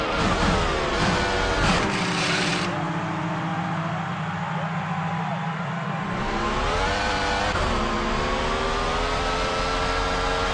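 Race car engines in the Monoposto racing game whine loudly and steadily throughout, with pitch sweeping up and down as cars accelerate and shift, a brief dip in the middle before revving back up.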